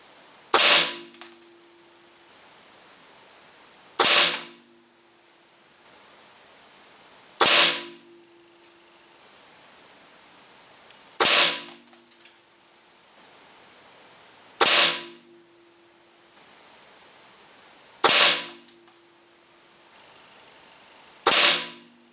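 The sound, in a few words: air rifle shots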